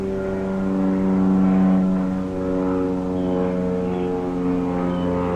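Propeller aircraft passing overhead, a steady droning hum with stacked engine tones that swells slightly and fades a little, holding throughout the short stretch.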